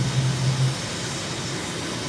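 Aircraft engine in a flight simulator over Uganda at dusk, a loud steady broadband roar during the climb-out after takeoff, with a low tonal hum fading early on.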